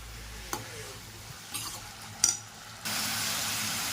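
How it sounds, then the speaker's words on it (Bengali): Banana flower cooks in ghee in a pan as a spoon stirs it: a few faint scrapes and knocks over a low sizzle, which swells into a steady, louder frying hiss for the final second. "এবার একটু ঘি দিয়ে দেবো। এবারে নেড়ে নিই।"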